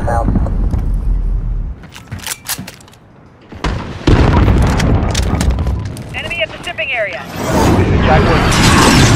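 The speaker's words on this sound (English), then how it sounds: "Cruise missile, go for launch." Cruise missile explosion in Call of Duty: Modern Warfare, a heavy boom followed by rumbling debris and scattered sharp cracks, loud and close, with voices and radio chatter from the game around it.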